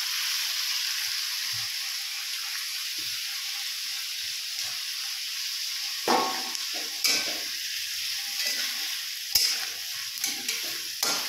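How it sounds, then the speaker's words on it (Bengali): Onions stir-fried in a pan, a steady bright sizzle throughout with occasional scraping strokes of a metal spatula growing busier toward the end. "জোরে জোরে খুন্তিটা ঘুরিয়ে ঘুরিয়ে, হ্যাঁ ঘুরিয়ে ঘুরিয়ে করতে হয়।"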